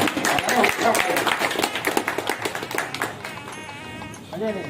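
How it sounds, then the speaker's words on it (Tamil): An audience at a racing pigeon association award ceremony in Pudukkottai claps in a brief, uneven burst, with voices talking over it and fading as it settles. "எல்லாரும் கைதட்டுங்க."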